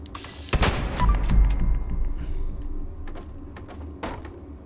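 Combat rifle shots in Fallout 76, a sharp loud crack followed by a few scattered single shots and mechanical clicks, close and punchy with short echoing tails.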